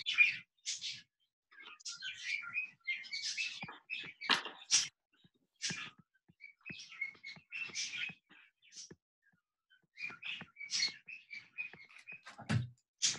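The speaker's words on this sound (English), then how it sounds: "Can you hear the birds now, or?" Birds chirp and call outdoors in scattered bursts, heard from a distance through a quiet recording with some frog-like croaks mixed in.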